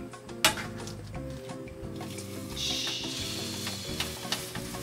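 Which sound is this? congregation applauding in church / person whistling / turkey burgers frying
turkey burgers frying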